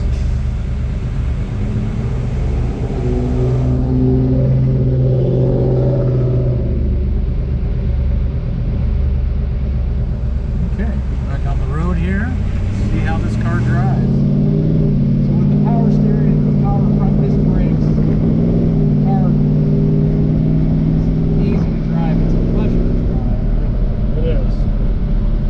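A 1969 Ford Torino Cobra with a Q-code 428 Cobra Jet V8 rumbles steadily from the cabin while driving with the windows down on a warm day, its low engine drone rising partway through, with people talking over it.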